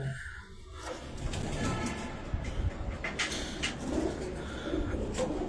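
Pigeons, a prized racing hen among a Karachi fancier's rooftop flock, coo softly and repeatedly against a steady background hum, with scattered rustles and brief higher calls.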